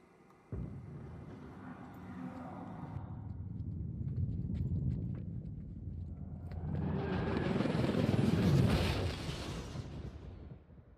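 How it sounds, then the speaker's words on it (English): A helicopter in the video game inFamous rumbles steadily, then swells louder with a rushing roar as it passes close before fading out. "Where the fuck did that chopper just come from?"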